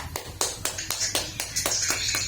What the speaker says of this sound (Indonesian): Aplaus untuk Waryono dan Hasbia.